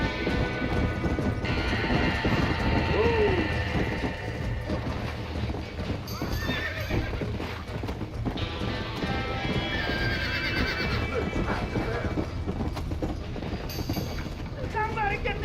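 Horses trapped in a burning barn in the Red Dead Redemption video game whinny and clop hooves amid crashing debris, continuous and busy throughout, with voices shouting over the commotion.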